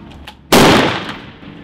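A single loud gunshot from a SCAR combat assault rifle at a shooting range cracks sharply near the start and then decays into a long ringing echo.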